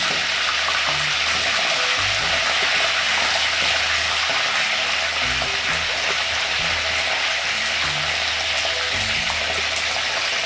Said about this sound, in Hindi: अब 3 मिनट इनको भी फ्राई करना है बैंगनों को